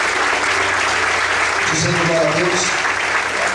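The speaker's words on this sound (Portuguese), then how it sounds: "Você pode usurpar sua mão e aplaudir ao Senhor nessa noite" A church congregation applauds steadily throughout, a dense, even clatter of clapping with a pastor speaking over it.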